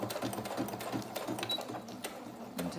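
A domestic sewing machine running a straight stitch, a steady close whirring with a fast regular needle patter, continuous and unbroken, no voices.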